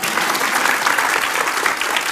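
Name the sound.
audience clapping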